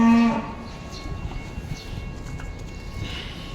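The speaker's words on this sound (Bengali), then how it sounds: "অনেক বড় এক একটা গরু।" Large dairy cows on a European farm, with a deep loud moo at the start followed by low barn rumble and faint shuffling.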